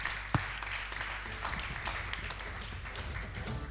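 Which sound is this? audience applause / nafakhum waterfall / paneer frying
audience applause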